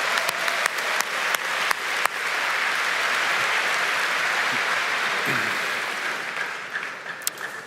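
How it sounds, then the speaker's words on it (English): A high school graduation audience at commencement breaks into applause: a few scattered claps swell quickly into a full, sustained round of clapping that gradually tapers off, with isolated claps lingering at the end. "Let's give them a big round of applause for being here tonight."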